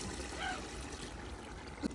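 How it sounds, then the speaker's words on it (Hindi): Water being poured into a pot of chicken masala, a soft steady trickle and pour heard up close and fairly faint, with no talking over it. "अब जी थोड़ा सा पानी लगाते हैं।"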